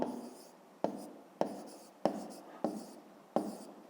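A pen writes on paper in six separate bursts of scratchy strokes, each starting sharply and fading, with short pauses between them.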